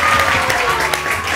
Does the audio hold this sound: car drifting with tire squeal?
no